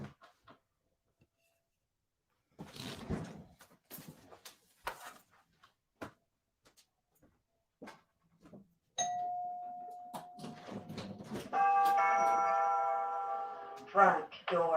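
A front-door doorbell rings loudly near the end, its tones ringing out after a stretch of talking and household movement, with a second burst of chimes right at the finish.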